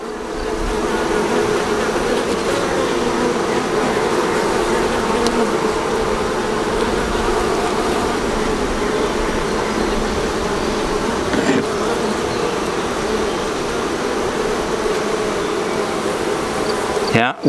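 Honey bees in a split hive hum in a dense, continuous drone throughout, close and steady, with no pauses.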